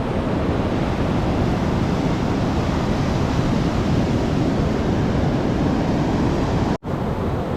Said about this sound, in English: those waves look like you could surf on them.